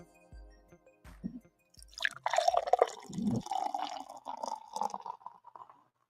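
A can of King State Venue Kolsch beer is handled with a few soft taps, then cracks open with a sharp hiss, followed by a bubbly, gurgling pour that fizzes close to the microphone.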